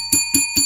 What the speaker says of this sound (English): Let's ring the bell for New York.